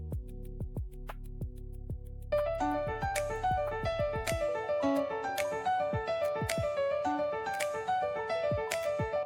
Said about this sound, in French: Intro de podcast d'entreprise, assuré et professionnel, piano entraînant et percussions légères